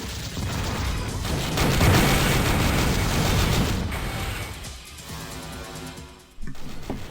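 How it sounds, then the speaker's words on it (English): Loud, dense booming blasts and rumbling bursts from a Gauss Cannon in the game Descent: Vertigo fill the first few seconds, then fade into a quieter mechanical hum before a sharp final burst. "some days you just have to pull out the Gauss Cannon."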